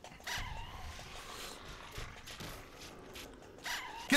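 A dog in Fallout: New Vegas gives several short barks and yips at a moderate distance, spaced irregularly over a low game ambience, with no talk over them.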